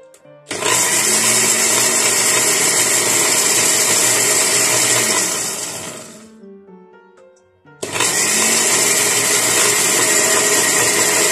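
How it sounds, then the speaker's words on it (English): A blender loudly whirs through homemade organic moisturizing shampoo ingredients, running about six seconds, winding down into a brief pause, then starting again at full power. "Pour it inside the blender and blend it."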